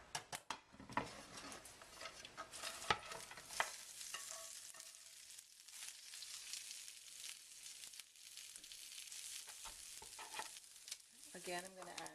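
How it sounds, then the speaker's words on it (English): Shredded cabbage stir-fries in a little hot oil in a pan, with a soft, steady sizzle. Utensils scrape and stir in bursts throughout, fairly faint and close, with no one talking. "Lastly, we're going to cook the cabbage, so we're, again, 2 teaspoons of oil"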